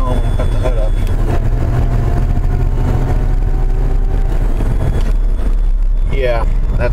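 A 1995 S10 with a vacuum leak idles with a steady low engine rumble and a thin, high-pitched whine riding above it. Voices talk over the running engine throughout.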